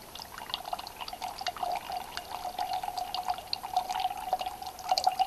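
Filtered water squeezed from a bottle through a Sawyer Squeeze filter into a test vessel, trickling and dripping steadily up close, with the splashing growing a little louder as the vessel fills.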